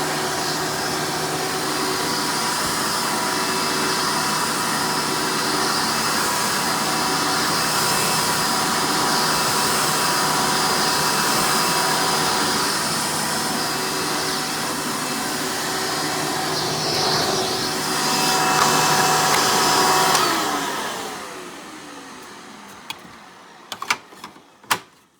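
A Hoover Futura Elite vacuum cleaner runs with a loud, steady motor drone and whine, swelling briefly near the end before winding down and cutting off, followed by a few close clicks and knocks.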